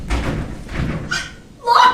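A locked door being tried and slammed shut in a mansion setting, a few heavy thumps and rattles followed by a sharp final bang, close and loud with a voice briefly under it.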